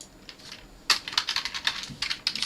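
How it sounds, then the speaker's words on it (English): Computer keyboard typing during a Hack The Box hacking session: a brief quiet lead-in, then a quick, irregular run of close, crisp key clicks and taps that continues to the end, with no voices. "Just typing this out so you guys can't see anything"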